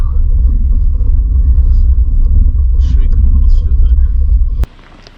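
A 2020 Jeep Wrangler Rubicon in four low rumbles over a bumpy off-road stretch, with heavy, continuous low cabin rumble and road noise from close inside, then a sudden thump before the noise drops away; someone talks over it.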